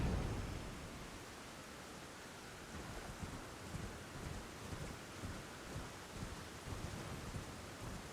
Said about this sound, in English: Not normally raining here, but I guess today just wanted to really show off how unpleasant it could be.